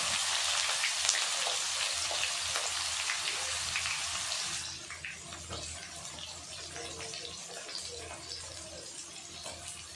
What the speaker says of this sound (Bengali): পেঁয়াজটা এখন আমি লাল করে ভেজে নেব।